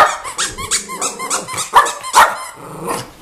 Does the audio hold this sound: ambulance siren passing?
no